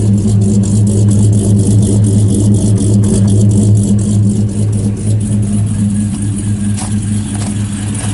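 A supercharged Chevrolet Silverado truck with an LS383 engine rolls slowly into a garage, its deep steady engine rumble loud and close with a mild whir, nearly unchanging throughout with no talk.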